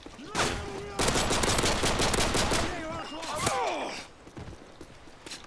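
Rapid bursts of gunfire in the Call of Duty MW3 Survival video game, dense automatic volleys with sharp single shots, loud and close, alongside voices talking.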